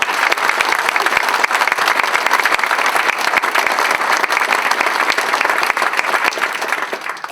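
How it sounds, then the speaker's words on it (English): Dense, steady audience applause for award winners at the Monmouth College 2019 Alumni Impact Awards ceremony, sustained for the whole stretch and easing only slightly at the end. "Let's all give all of tonight's award winners one more round of applause."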